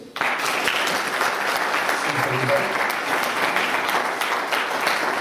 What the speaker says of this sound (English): Can everyone give Matthew a round of applause, please?